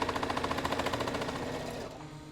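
A Brother ST150HDH heavy duty sewing machine punches through 16 layers of fabric in a rapid, loud, evenly pulsing needle rhythm up close, then the strokes blur and the motor starts to slow near the end.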